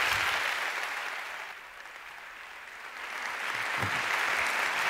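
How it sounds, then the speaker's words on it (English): Sustained applause from an audience at a refugee award ceremony, a dense steady wash of clapping that dips briefly in the middle and swells again, with no voices. "presented the award to Zanna Mustafa amidst applause"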